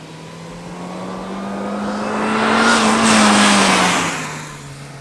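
A supercharged 2005 Mini Cooper S engine revs loudly and close by on its own. Its pitch climbs steadily, peaks, then eases back down in one smooth sweep.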